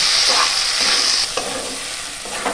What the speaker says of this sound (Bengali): এগুলোকে আমি নাড়াচাড়া করে ভালো করে ভেজে নেব।